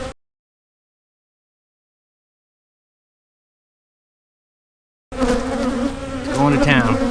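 Honey bees buzz loudly and close during a March hive inspection of a brood nest, a dense droning swarm that starts abruptly after a long stretch of silence and swells toward the end.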